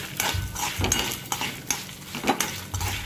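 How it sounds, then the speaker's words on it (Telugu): Dry red chillies fry in a hot pan with oil while a metal spoon stirs them, giving close clinks and scrapes over a light sizzle in uneven bursts, with no voices. "ఇది ఎండుమిర్చి కూడా క్రిస్పీగా అయ్యేంత వరకు వేయించుకుందాం"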